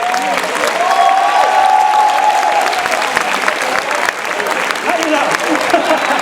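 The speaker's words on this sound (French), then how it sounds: "Je vous demande d'applaudir Grégoire Delaporte." An audience applauds steadily at a school concert, continuous clapping with brief voices heard over it.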